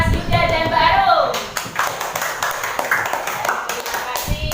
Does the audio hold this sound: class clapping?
yes